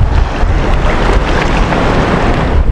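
Rough sea waves surge and wash continuously in gusty wind at close range, a dense, steady roar with buffeting microphone wind and no gaps for the full stretch.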